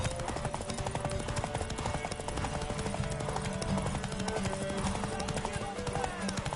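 Horse hooves clip-clop in a steady rhythm in The Witcher 3: Wild Hunt on PS5. The hoofbeats run continuously at moderate loudness beneath a busy game soundscape with voices talking over them.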